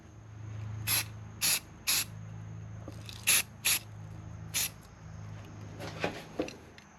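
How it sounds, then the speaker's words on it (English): Spray paint going onto a welded steel gusset by an axle, heard as about eight short, sharp hissing bursts of even length, spaced irregularly over a low steady background hum, close and alone. "I'm going to clean it up, get some spray paint on it"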